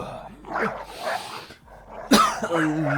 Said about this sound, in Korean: 그때 동네가 시끄러워지자 강아지들이 짖기 시작했습니다